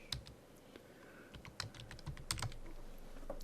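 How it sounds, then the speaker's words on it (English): Typing on a computer keyboard sounds as quiet, close key clicks in irregular bursts, with a few sharper taps standing out. "click out there somewhere on the whiteboard, and type in "this as an example.""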